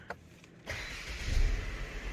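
A Mercedes-Benz C 300 AMG Final Edition (W205 facelift) engine cranks and catches, settling into a steady idle heard from inside the car.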